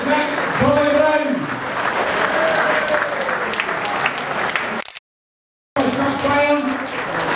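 Sustained audience applause at the Willie Bauld dinner as a football player is introduced, steady clapping with a voice speaking over it, briefly cut to silence before resuming.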